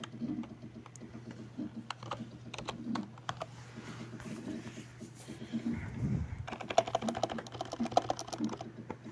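Computer keyboard typing on a Windows desktop, quick irregular clicks in short bursts, fairly soft and close, with no talking.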